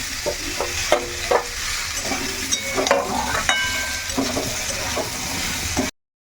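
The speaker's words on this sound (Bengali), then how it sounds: "কুমড়ো আর আলু বেশ ভালো করে কষিয়ে নিয়েছি" Raw pumpkin and potato sauté in a hot pan, a steady sizzle broken by repeated scrapes and clinks of a spatula stirring through the pieces, close and alone without talk.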